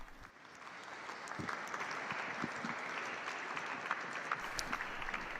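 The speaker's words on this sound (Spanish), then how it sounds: "Inmediatamente el aplauso de todos los congregados aquí" Warm, continuous applause from an assembled audience for Pope Francis, a dense, even wash of clapping that holds steady throughout with a few sharper individual claps standing out.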